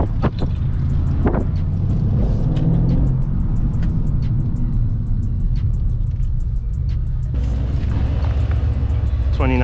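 A 2019 Mercedes-AMG C63 S engine accelerating on a test drive, a loud continuous deep rumble heard from inside the car with a voice speaking briefly over it.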